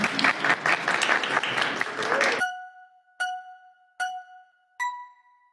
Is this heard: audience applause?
yes